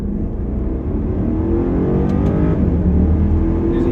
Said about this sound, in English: Going to go ahead and step on it in second gear.